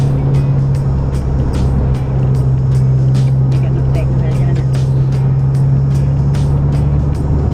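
A car's engine drones steadily from inside the cabin as it cruises on a road trying to overtake, with a constant low hum, faint road noise and light ticking, while voices seem to murmur under it.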